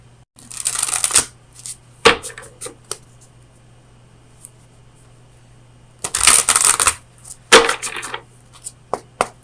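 Oracle cards from an Oracle of Visions deck are shuffled in two close, crisp bursts of riffling and flicking, separated by a few scattered light taps and a quiet pause, with no talking.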